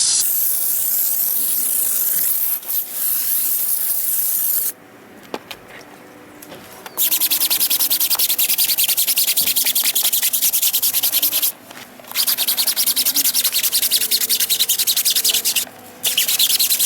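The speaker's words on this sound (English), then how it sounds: "we'll put some more on the tyre wall and then give that a bit of a scrub" Cleaner is sprayed onto a dirty car tyre wall, which is then scrubbed with steady, loud, close rubbing strokes broken by a few short pauses. Hissing spray bursts mix in, and no one talks.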